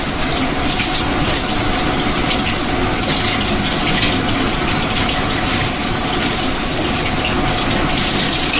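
Steady water from a kitchen faucet runs hard into a sink as it heats up for dishwashing, a continuous rushing gush that holds level throughout, close and alone.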